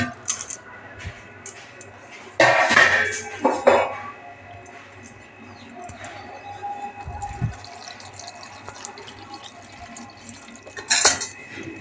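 Cut eggplant pieces drop into a bowl of water with a few splashes and clinks of the bowl, close by, amid quieter kitchen handling sounds.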